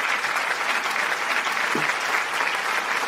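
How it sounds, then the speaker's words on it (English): Comedy show audience clapping, a steady, full round of applause from many hands, close and continuous with no break or talk. "The round of applause."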